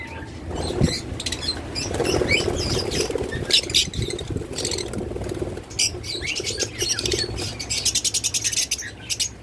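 Caged lovebirds, cockatiels and budgerigars make a dense, steady chatter of high chirps and squeaky calls, with rustling, fluttering and pattering, close and continuous throughout.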